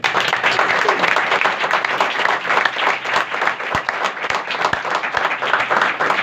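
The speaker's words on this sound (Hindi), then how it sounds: "यीशु के लोगों के लिए एक बार जोरदार ताली।" Loud, dense applause from a church congregation, steady clapping throughout with no pauses, a few sharper claps standing out near the end.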